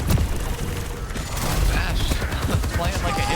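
Bastion's turret form firing in Overwatch 2 during a competitive high school match, a dense, sustained stream of rapid gunfire with heavy booms, loud and continuous under a game caster's talk.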